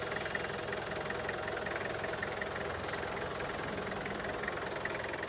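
A fully restored Toyota Qualis RS idles steadily right after starting, with a continuous, even diesel-like rumble and clatter heard up close and no talk over it.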